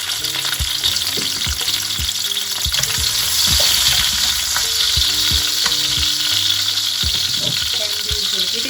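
Chili hits hot wok oil and sizzles loudly and continuously, a dense close crackle with scattered scraping and stirring knocks throughout.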